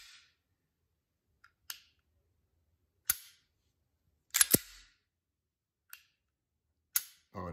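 Dry-fire trigger clicks of a Smith & Wesson M&P Shield Plus 9mm pistol, about six sharp, close metallic snaps spaced apart over near silence.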